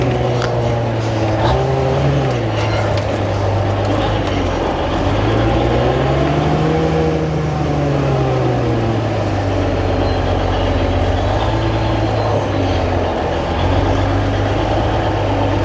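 An old truck with barely working brakes runs its engine while being moved, a steady loud rumble with a low drone that rises and falls as the revs change, continuous throughout.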